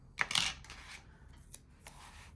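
Scissors snip through sticker material for a travelers notebook, giving a few quick, close crisp cuts with soft rustles between them in a quiet room.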